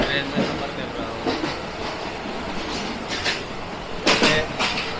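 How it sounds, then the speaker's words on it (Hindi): A local passenger train on the Pattaya to Bangkok line in Thailand runs along with a steady rumble and rhythmic clatter, brief louder bursts rising over the continuous noise inside the carriage. "लोकल ट्रेन में सफ़र कर रहा हूँ"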